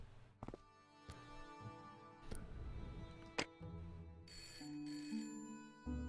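A telephone rings in the Broken Sword: Shadow of the Templars adventure game, heard as clear electronic ringtone tones among scattered clicks and sharp ticks, mid-level and without speech.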